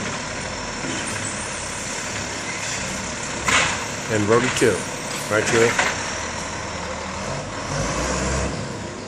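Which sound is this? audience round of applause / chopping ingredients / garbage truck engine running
garbage truck engine running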